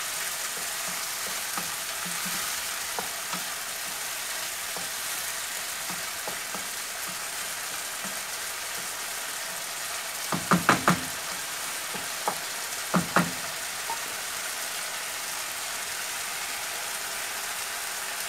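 Tomatoes fry in a pan with steady soft crackling sizzle throughout, with a few louder clicks of stirring utensil near the middle and again shortly after.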